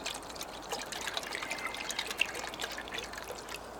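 Water poured from a camping pot, a close, continuous trickling and splashing stream lasting a few seconds with no talk.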